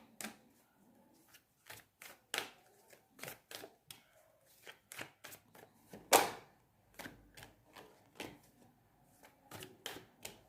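Tarot cards being shuffled by hand, a fast run of crisp riffling flicks in uneven bursts with one sharper slap near the middle, close and clear with no voices.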